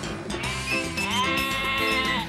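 A sheep bleats in one long, wavering, tremulous call heard up close, with the flock's livestock setting suggested and a low murmur underneath.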